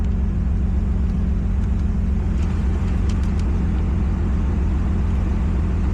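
A Toyota Supra MKIV engine idles steadily up close, giving a low, even rumble with no talk and no obvious change in pitch.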